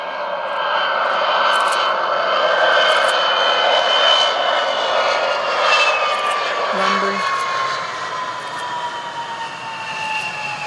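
A VC10 jet airliner's engines roar loudly and steadily at Bruntingthorpe, UK, with whining tones that slowly shift in pitch, heard outdoors over several seconds.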